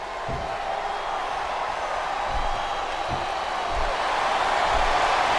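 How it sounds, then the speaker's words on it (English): A capacity wrestling arena crowd at WrestleMania, during a Shawn Michaels versus Vince McMahon match, roars in a continuous, distant-sounding wall of cheers and boos with occasional low thumps underneath. "This capacity crowd is making their opinions known tonight."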